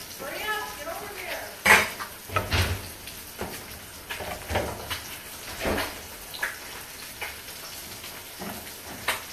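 A spoon stirs tea-infused rice in a pot, clinking and scraping against the metal in irregular bursts at close range in a quiet kitchen.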